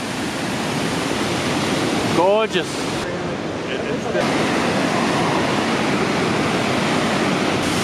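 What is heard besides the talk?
Athabasca Falls waterfall rushing water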